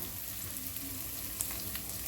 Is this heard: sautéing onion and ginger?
yes